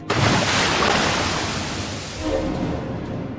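Strong ocean waves crash and surge against a small wooden boat at sea, a loud continuous roar of broken water and spray that swells again near the end, with no talking.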